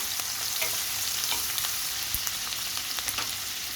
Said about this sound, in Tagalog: Mainit. Yan, igisa-gisa natin ang onion.